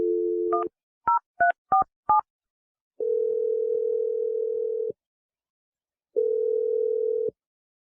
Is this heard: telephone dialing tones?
yes